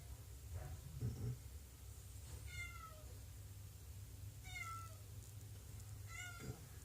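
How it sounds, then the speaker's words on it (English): A cat meows several times at a moderate distance, short rising calls spaced a couple of seconds apart over a steady low room hum. "Shut up, cat."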